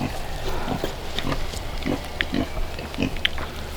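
Pigs on a Mississippi farm on a winter night before an ice storm, grunting and munching feed: close, repeated low snuffles and chewing noises over a constant outdoor hiss.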